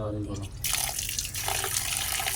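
Cut fish rinsed under a running tap: a steady splashing water stream, with a voice briefly at the start.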